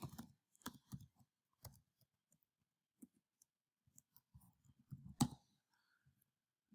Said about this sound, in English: Type in your name.